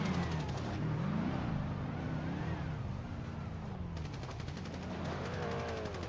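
Gunfire in a GTA online war match, rapid bursts of shots crackling steadily over a continuous background of game sounds and car engines, moderately quiet throughout.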